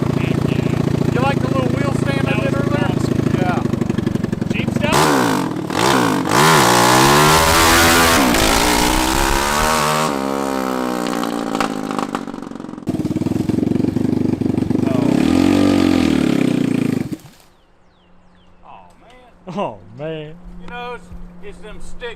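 A cheap mini jeep fitted with a swapped-in racing engine drives and revs hard, its loud buzzing engine climbing and falling in pitch before cutting out, leaving quieter sounds and brief talk.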